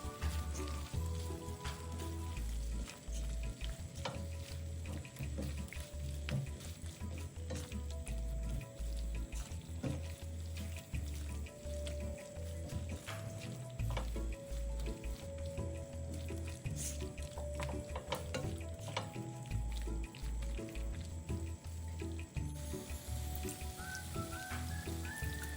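Eight peeled, deveined shrimp stir-fried in a wok with noodles and chicken, with a steady, close sizzle and frying crackle throughout, plus scattered clinks and scrapes of stirring and no talk.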